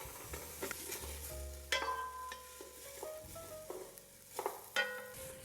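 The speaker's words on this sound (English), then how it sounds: "This is one onion diced that we're just going to saute until it's just lightly browned" Diced onion sautéing in a pan for squash soup, with stirring scrapes and bursts of sizzle rising and falling over a steady low frying hiss, close and moderately loud.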